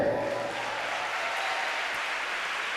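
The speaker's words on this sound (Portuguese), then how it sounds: "Sabe que você pode aplaudir a Ele?" A church conference congregation applauding together, a dense, steady wash of clapping that fills the whole stretch at even loudness with no voices standing out.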